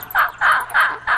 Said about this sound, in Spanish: Sin remedio, se establece una guerra de trinos.